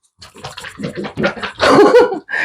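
A glass olive jar with a lid, holding white paint, pouring medium and a little water, is shaken hard, giving a close, loud liquid sloshing in bursts that grows stronger toward the end.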